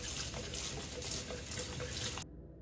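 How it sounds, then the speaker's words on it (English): Grill plates from a Gourmia GGA2100 smokeless indoor grill being hand-washed under a running sink faucet, a close, steady splashing gush that cuts off abruptly near the end. "I wanted to hand wash them to see how difficult it would be"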